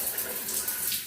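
Shower water running hard in a bathroom of a newly finished building, a steady, loud broadband hiss of spray that holds without pause through the short stretch.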